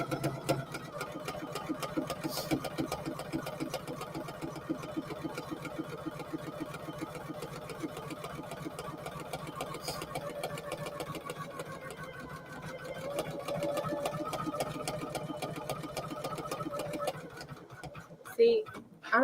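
Poolin EOC06 single needle embroidery machine stitching, a fast, even mechanical rattle running steadily and close for most of the stretch before stopping near the end.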